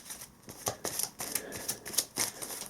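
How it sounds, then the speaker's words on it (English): Legendary Encounters: Alien drone cards being shuffled by hand, a series of soft, close riffling bursts and flicks repeating unevenly over a couple of seconds with no talking. "Turn it face down, give it a shuffle."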